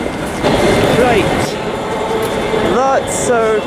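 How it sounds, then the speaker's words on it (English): A ScotRail class 380 electric train at a station on the way to Irvine, heard nearby with rumbling and short squealing wheel or brake tones, people talking over it. "That's our train over there that we're going to get to Irvine."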